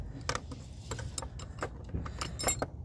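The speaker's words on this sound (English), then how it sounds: "let's pipe wrench this" Metallic clinks and scrapes from a pipe wrench working a blind spot mirror off its mount, several sharp ticks and rattles in irregular bursts over a low background rumble, close by with no talk.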